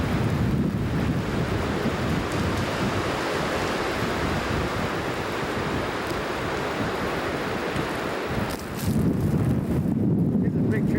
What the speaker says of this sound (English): comes another gust.